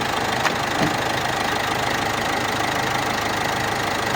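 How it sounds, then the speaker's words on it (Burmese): A Mazda Bongo DV van's engine runs steadily just after starting, a continuous close-up idle with a slight knocking texture and no talking. "အဲ့ဒါကျွန်တော်ဆက်လေးနှိုးပြပေးတာပါခင်ဗျာ"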